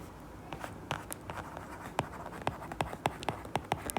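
Chalk tapping and scratching on a board as a maths teacher writes out a matrix equation, a quick run of short strokes and taps that grows busier and louder toward the end, with no talk.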